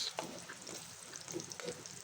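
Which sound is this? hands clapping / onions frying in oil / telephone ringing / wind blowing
onions frying in oil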